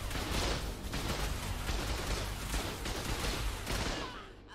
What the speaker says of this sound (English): Can I shoot my gun at least?